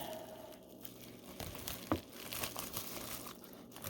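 A thin plastic sleeve from Jinhao 9019 Dadao fountain pen packaging crinkles and rustles up close, quiet irregular crackling handling noises with one sharper snap, no voices.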